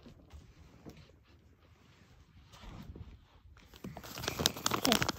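A paper squishy blind bag package is torn open, its crinkling and ripping growing louder and denser toward the end, close and alone with no talking.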